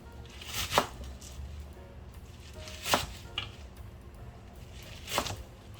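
Knife chopping Korean chives (buchu) for pickled chive side dish, three sharp, distinct chops spaced about two seconds apart, close and clear with quiet handling between.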